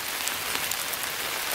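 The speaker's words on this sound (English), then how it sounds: "It was downright drippy now, straight up raining." Rain falling steadily at an outdoor shooting range, a dense, even hiss of drops striking surfaces with a few distinct nearby drips, no voices.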